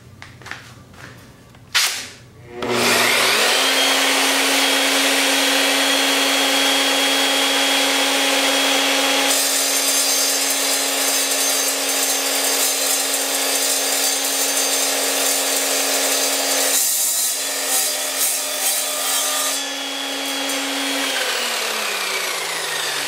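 An Evolution Rage 3 miter saw cuts through 7075 aluminum. A few clicks come first, then the motor spins up into a loud, steady high-pitched whine. The blade bites the metal with a harsher grinding roar partway through, and the motor winds down at the end.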